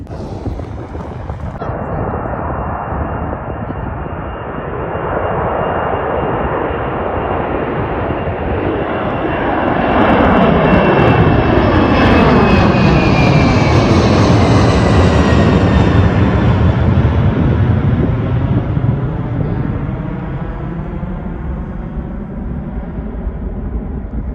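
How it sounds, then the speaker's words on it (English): A FedEx cargo jet roars down the runway at Anchorage, Alaska and takes off, its engine noise swelling loud and then slowly fading as it climbs away. "seems like a FedEx is about to take off"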